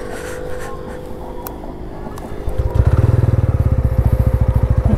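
A TVS Ronin 225 motorcycle at the start of a highway ride, with low ambient noise giving way to the engine starting up and settling into a loud, close, rapidly pulsing idle thump.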